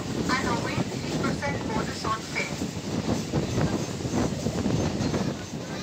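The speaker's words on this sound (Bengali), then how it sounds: "সবুজে ভরা প্রাকৃতিক অপূর্ব সৌন্দর্যের মধ্য দিয়ে ছুটে চলেছে ট্রেন" A local passenger train runs from Tarakeswar to Goghat through green countryside, giving a steady, loud rumble with rhythmic wheel clatter throughout and no pause.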